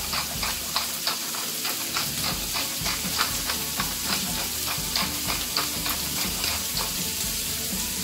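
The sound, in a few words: bacon frying in a pan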